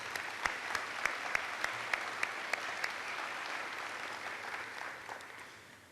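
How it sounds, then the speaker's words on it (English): Banquet audience at a Houma Terrebonne Chamber of Commerce dinner giving a round of applause, with a few sharp individual claps standing out near the start before the clapping thins and fades away. "can you please give a round of applause for the lovely ladies sitting at that table?"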